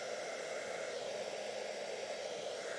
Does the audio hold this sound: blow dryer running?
yes